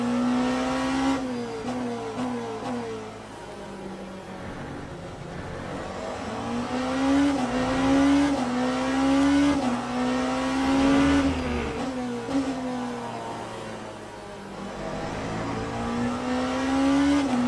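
A Peugeot race car in Le Mans Ultimate racing at Qatar, its engine rising and falling steadily through repeated gear changes and revs, close and continuous with brief tire noise.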